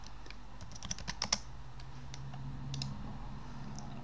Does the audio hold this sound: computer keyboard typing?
yes